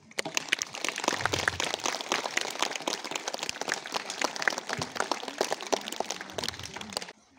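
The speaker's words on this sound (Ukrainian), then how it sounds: "Але сьогодні ми їх привітаємо оплесками." Dense, steady applause from an audience at a school first-bell ceremony in Skomorokhy, 2022, loud and continuous for about seven seconds before stopping abruptly.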